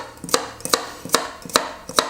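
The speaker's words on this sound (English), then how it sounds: "we're just gonna chop each garlic rather finely, but not too much" A knife roughly chopping garlic cloves on a board for Provençal stuffed tomatoes, giving about six crisp, evenly spaced chops, close and loud, with no talk.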